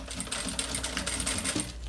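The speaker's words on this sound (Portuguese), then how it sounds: "vou começar a costurar aqui" A sewing machine stitches piping onto a lined thermal bag, giving a rapid, close, rhythmic mechanical chatter with quick clicking bursts throughout.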